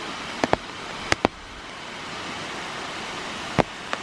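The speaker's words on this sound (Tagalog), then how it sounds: "Maliit na falls." Small freshwater waterfall with clear water dropping from above into a pool, giving a steady broadband rush of falling water alone, with a few brief sharp clicks or taps over it.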